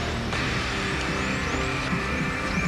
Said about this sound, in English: Trooper Tim Literal hears the call and pulls the car over